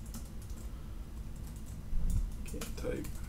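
Computer keyboard typing in quick bursts of light clicks, moderately close, with a slightly heavier clatter midway, over a steady low room hum.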